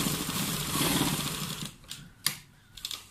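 A sewing machine stitching a shirt collar runs in a close, rapid mechanical whir for about a second and a half, then stops, leaving a few sharp clicks and fabric handling sounds.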